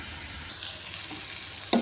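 Potatoes frying in a pan, a steady soft sizzle that grows brighter halfway through, ending with a sharp louder crackle, with no voices.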